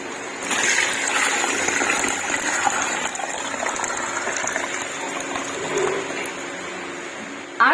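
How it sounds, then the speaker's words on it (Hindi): Water gushes steadily into a pressure cooker pot holding 1.5 kg of beef nihari masala, about eight glasses in all: a continuous, close, splashing pour lasting several seconds, ending with a brief clunk. "तो अब इस स्टेज पे आके मैं इसमें पानी डालूंगी।"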